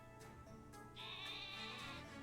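Wooloo, a sheep Pokémon in Pokémon Sword, gives short, clear synthesized bleats, with a brighter sustained bleat in the second half, alone with no talk.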